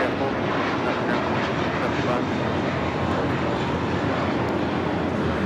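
A JetBlue Airbus A321 takes off from Los Angeles International Airport bound for Newark, its engines a broad, steady roar at moderate distance with faint radio chatter beneath.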